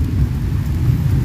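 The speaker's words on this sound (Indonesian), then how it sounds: "Tuh, di sini lagi hujan teman-teman. Hujan gerimis aja." Light drizzling rain falls over a chili garden, a steady soft hiss of drops close by with no voices.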